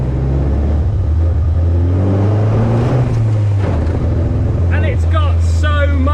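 Tuned Austin 7 Cambridge Special with a Pigsty-built engine and full synchro gearbox, its small engine droning steadily close by and rising and falling with the throttle, while a voice talks over it.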